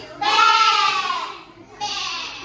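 Children in a primary school classroom imitate a goat's bleat in two loud wavering calls with a short gap between them.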